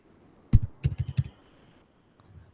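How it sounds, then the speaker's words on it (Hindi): Typing on a computer keyboard heard during a maths class: a cluster of about five quick, close clicks and taps, then near silence. "कौन टाइप कर रहा है"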